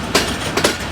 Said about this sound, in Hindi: 135 अब चनाब एक्सप्रेस पहुँच गया बन्ना मियाँ वाला रेलवे स्टेशन पर